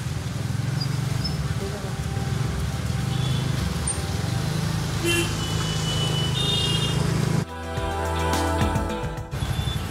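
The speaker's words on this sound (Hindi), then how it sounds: "देखिए रास्ता कितना ब्लॉक हो रहा है कितना गाड़ी आ रही है इस तरफ में" Traffic jam on a rainy road, with steady engine rumble and vehicle noise throughout, a few short beeping horn-like tones, and a voice talking over it.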